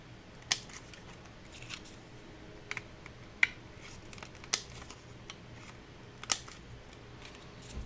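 Scissors snip paper pieces cut to 3 by 2.25 inches, rounding their corners in a crafting class: sharp, close snips at irregular intervals over a quiet room.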